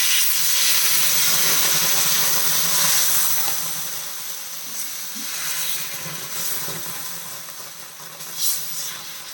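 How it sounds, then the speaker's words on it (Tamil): Rava dosa batter hitting a hot griddle sends up a loud, broad hiss that holds strong at first, then eases into a softer, fluctuating crackle, with a brief flare near the end. "கல் வந்து நல்லா சூடாகிடுச்சு நாம் வந்து மாவு சேர்த்துடலாம்"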